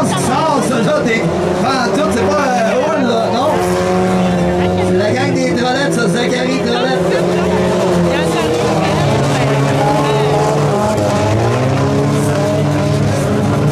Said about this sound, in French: Et quand ça s'est mis à virer à gauche et à droite, regardez Vincent Gagné piloter